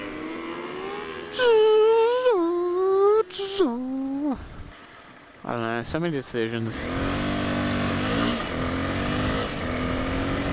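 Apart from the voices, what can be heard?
motorbikes passing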